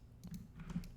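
A few light keystrokes on a computer keyboard as a command is typed into Rhino 3D modeling software, soft close taps in a quiet room over a low hum.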